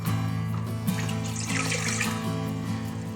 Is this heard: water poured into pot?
yes